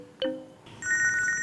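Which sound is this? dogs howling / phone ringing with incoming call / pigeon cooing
phone ringing with incoming call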